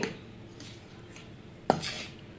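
Laddu ingredients mixed in a bowl, with soft rubbing and a few scattered utensil scrapes, plus one sharp clink of a spoon against the dish near the end, all faint over a quiet background.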